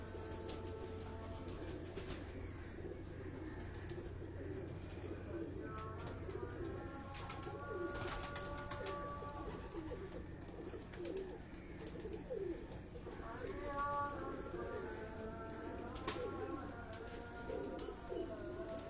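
Kabuli high-flying pigeons in Karachi coo repeatedly in soft, rolling phrases, faint and close, with occasional wing rustles and a little background noise between calls.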